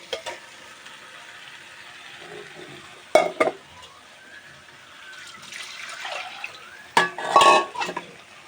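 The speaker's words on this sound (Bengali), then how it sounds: "আর এখন ঝোল দিয়ে দিব মাছ দিয়ে।" Liquid goes into a fish curry of fresh stinging catfish with potatoes and tomatoes in a pan. A low simmering sizzle runs under sharp utensil clanks, then a louder rushing pour and splash near the end.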